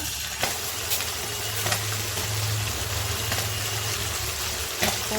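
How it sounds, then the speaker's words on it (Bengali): Puti fish frying in hot oil in a home kitchen, giving a steady, dense crackling sizzle that holds loud and close throughout with a few sharper pops, no voices. "তেলের উপর পুঁটি মাছ দিয়ে দিলাম।"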